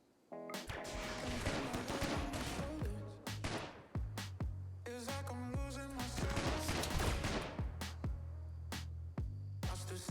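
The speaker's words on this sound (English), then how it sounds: "that's a plasma gun that's gonna cause some fire" Plasma guns firing during a colony raid in RimWorld, a dense run of rapid sharp shots and bursts over game tones, loud and nearly continuous with brief gaps.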